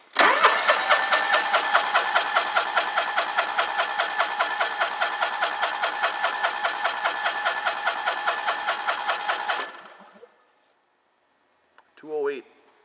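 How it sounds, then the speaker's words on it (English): John Deere LX188 riding mower engine cranking over for a compression test, a steady rapid chugging of the starter lasting about ten seconds, loud and close, then stopping and followed by a brief voice. "John Deere LX188, engine compression test"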